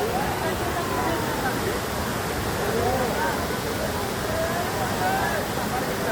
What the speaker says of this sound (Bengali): মায়াবী ঝর্ণা?